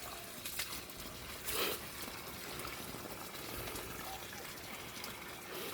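Running water from a pipe trickles and splashes continuously at low volume as a dog drinks from it, with a brief louder gush near the start.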